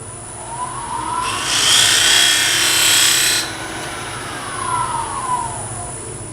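A Sorby chatter tool cuts a pattern into spinning wood on a lathe, a loud bright buzzing rasp that lasts about two seconds over the steady whine of the lathe motor, which rises and falls in pitch around it.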